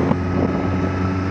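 Wind buffeting a motorcycle hands-free kit microphone on a cold ride, with the bike's engine droning underneath, a steady loud rumbling roar throughout.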